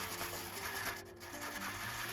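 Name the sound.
hand sanding a silver pendant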